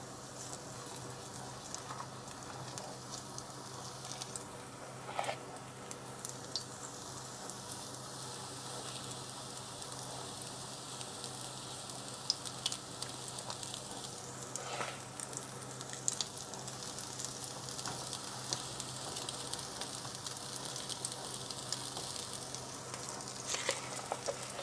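Pancake batter spooned into a freshly oiled frying pan sizzles steadily and softly throughout, a constant crackling hiss with faint scattered pops.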